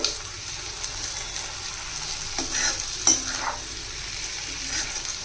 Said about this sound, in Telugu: కొంచెం కరివేపాకు అలాగే కొంచెం కొత్తిమీర ఇలా వేసిన తర్వాత ఒకసారి బాగా కలపాలి